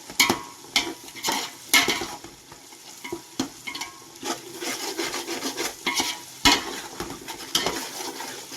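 Green chillies being sautéed in a pan for dum biryani, with a spoon scraping and stirring in irregular bursts over a soft, steady sizzle, close and moderately loud, no talking.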